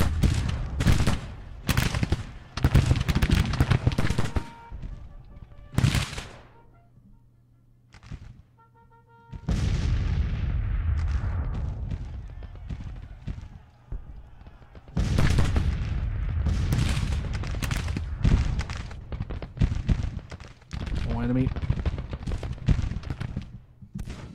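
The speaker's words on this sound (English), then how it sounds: "Take some close range fire here from the artillery." Close-range artillery and gunfire in an American Civil War strategy game set in Missouri, loud cannon booms and crackling volleys in repeated bursts separated by short lulls over about twenty-four seconds.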